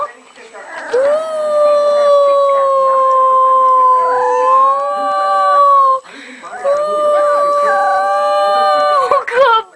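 A dog howls in long, wavering tones, two sustained howls separated by a short break, close and loud.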